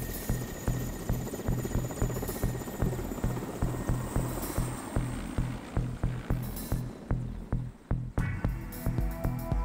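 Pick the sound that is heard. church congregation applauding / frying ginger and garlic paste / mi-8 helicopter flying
mi-8 helicopter flying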